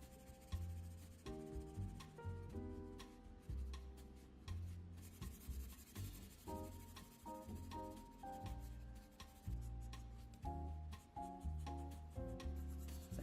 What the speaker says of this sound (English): Now I'm going to use the side edge of my pencil to darken up that bevel just up above the eyes.